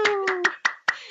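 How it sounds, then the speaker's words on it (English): A few hands clap in applause in a short, uneven burst of about five sharp, close claps, with a brief tone ringing under the first few. "Yay, a round of applause."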